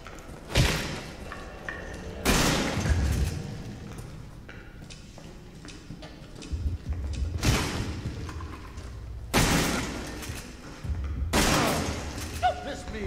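Gunfire in the horror game Resident Evil 7: several loud sharp shots spaced a few seconds apart, each with a booming tail, over a quiet game backdrop with a voice talking.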